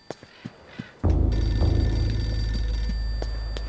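Telephone ringing in the Eternal Darkness video game, a sustained electronic ring that starts abruptly after a few soft clicks and footsteps and continues loud and steady over a low hum.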